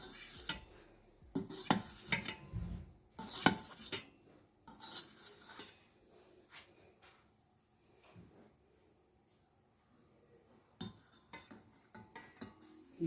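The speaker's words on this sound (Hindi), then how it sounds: "जेली को हम काट लेते हैं।" A knife slices through set jelly in a dish, giving scattered soft clicks, taps and scrapes against the container at close range, with quiet pauses between cuts.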